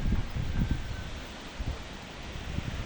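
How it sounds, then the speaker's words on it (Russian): Very strong gusty wind whips through garden rose plants, giving a steady rushing rustle with heavy low buffeting surges against the microphone. "Очень сильный ветер."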